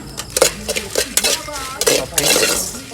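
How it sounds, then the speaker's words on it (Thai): Chili and pork being stir-fried in a pan, with a spatula scraping and clanking against the metal in quick irregular strokes, close up and fairly loud, with no sizzle standing out. "คั่วพริกคั่วหมู"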